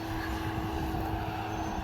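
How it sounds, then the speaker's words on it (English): A tractor pulling a hay baler rolls past in a hay field, its engine a steady, loud drone with a broad rumble that holds even throughout, no voices over it. "there goes a tractor with a baler"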